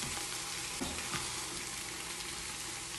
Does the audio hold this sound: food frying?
yes